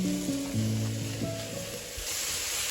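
Smash burger patties pressed onto a hot griddle without oil sizzle with a steady, fairly quiet hiss at an outdoor wilderness campsite, with some faint tonal sounds in the background.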